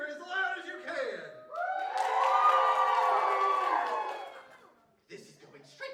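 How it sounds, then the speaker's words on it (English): A theater audience cheers and shouts loudly for a villain stepping on stage at a family show, a swelling roar that fades out before a few voices and murmurs return at the end. "you cheer as loud as you can"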